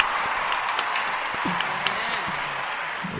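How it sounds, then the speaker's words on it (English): Applause from a small group on a podcast episode, a soft wash of clapping with a few faint voices mixed underneath, steady and moderately distant. "Give a round of applause, Dash. Round of applause."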